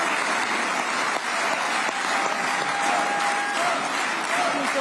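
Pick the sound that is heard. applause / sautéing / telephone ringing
applause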